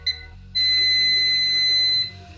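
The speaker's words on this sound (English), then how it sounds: "That's our timer." A kitchen timer, set while sourdough bagels boil, sounds a single steady high-pitched electronic beep lasting about a second and a half, close and clear over faint low background hum.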